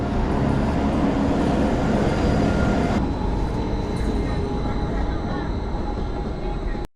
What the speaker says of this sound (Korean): 톱니바퀴 열차